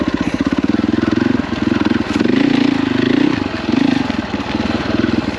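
A KTM 450 dirt bike engine on rough single track, a loud, close, throbbing single-cylinder thump that rises and falls as the throttle is worked.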